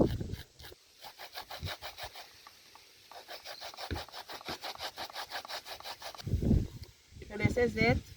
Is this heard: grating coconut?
yes